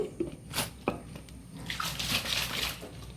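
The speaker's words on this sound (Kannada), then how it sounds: "ಇಲ್ಲಿಗೆ ನೀರನ್ನು ಹಾಕ್ಕೊಳ್ತಿದ್ದೇನೆ ನೋಡಿ" Water is poured into a pan while making fenugreek (methi) halva, a soft trickling stream with a few sharper splashes, close by and fairly quiet, with no talking.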